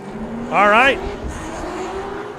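A drift car's engine revs hard in one brief, loud rising burst on a qualifying run at the LS Fest West 2025 Drift Challenge, with an announcer talking over the event noise.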